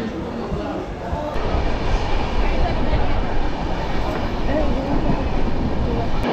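A passenger train bound for New Alipurduar rolls along with a loud, steady, close rumble and rattle from inside the coach, continuous throughout.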